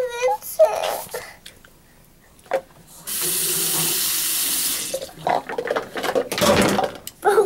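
A water tap runs into a sink for a few seconds to rinse after brushing teeth, a steady close hiss surrounded by a child crying and whimpering and voices talking before and after.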